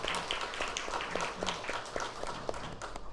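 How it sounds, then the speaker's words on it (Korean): Applause from a church congregation welcoming international students at a worship service, a steady dense patter of many hands clapping at moderate distance, continuous for the whole stretch. "박수로 격려하겠습니다."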